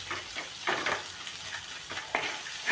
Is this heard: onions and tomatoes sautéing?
yes